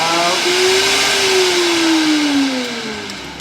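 A blender whirs steadily as it mixes a salted caramel frappuccino, its motor pitch slowly rising and then falling across a continuous, fairly loud run with no talking.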